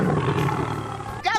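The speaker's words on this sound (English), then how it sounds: "Tiger." A tiger roars loudly and close for about a second, a rough sustained growl with a brief higher sound at the very end.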